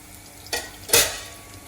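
Fish frying in a pan for a mango fish curry gives two short, sharp bursts of sizzle and stirring over a faint background.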